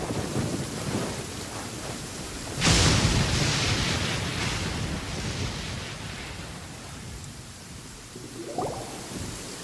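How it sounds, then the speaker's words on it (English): A loud thunderclap crashes in suddenly and rolls away over steady rain in a stormy scene from the Genshin Impact story quest of Kamisato Ayato, with a fainter rumble near the end. "Many people dread the sound of thunder."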